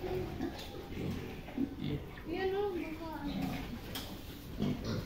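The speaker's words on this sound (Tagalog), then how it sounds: "Tignan nyo naman yung mga baboy." Pigs on a farm pen grunt and oink in short, rough bursts, close by and mixed under steady conversation from people standing among them.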